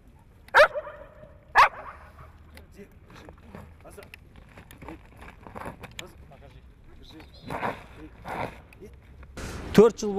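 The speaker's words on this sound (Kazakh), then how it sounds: "Есірткі іздейтін ит өзінің несі." Belgian shepherd drug-sniffing dog barks in a few sharp, loud, separate bursts with long gaps between them, over a faint background murmur and some brief indistinct sounds.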